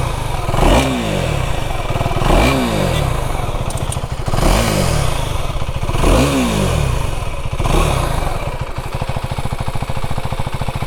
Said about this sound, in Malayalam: ഇതിൻ്റെ എക്സോസ്റ്റ് നോട്ട് കൂടെ ഒന്ന് കേട്ട് നോക്കാം. എക്സോസ്റ്റ് നോട്ട് കൊള്ളാം, അത്യാവശ്യം ബ്യൂട്ടിഫുൾ സൗണ്ടിങ് ആയിട്ടുള്ള എക്സോസ്റ്റ് ആണ് കേട്ടോ.